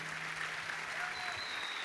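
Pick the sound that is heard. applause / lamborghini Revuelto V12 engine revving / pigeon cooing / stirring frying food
applause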